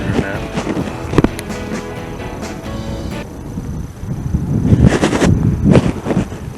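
A leaf-burning barrel driven by a workshop fan roars like a rocket outdoors, a rough broadband rush with crackling pops, swelling louder toward the end.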